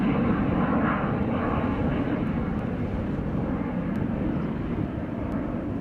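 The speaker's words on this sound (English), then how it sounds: "MiG-15." A MiG-15 jet fighter flies at an airshow, its broad, steady engine roar loud and continuous throughout, with no talk over it.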